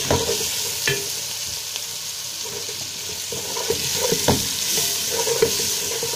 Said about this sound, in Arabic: ونحط هنا معانا الفلفل الاخضر وورق اللورا والحبهان ونقلب